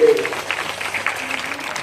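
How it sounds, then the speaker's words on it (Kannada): Clapping from an audience at a Methodist district revival meeting in Chitguppa: a short, moderately loud burst of applause from a gathered crowd, with a voice talking over it. "ನೋಡಿರಿ ಚಪ್ಪಾಳೆ"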